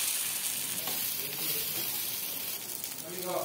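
Dosa batter frying on an oiled stone griddle, a soft continuous sizzle with a brief clink near the end, fairly quiet and steady.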